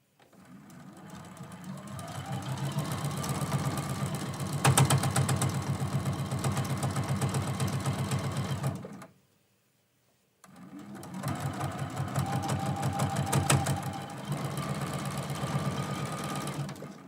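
A sewing machine stitches straight quilting lines across the layers of a quilt block, running in a steady loud mechanical whir for about eight seconds, stopping briefly, then starting again for another long run.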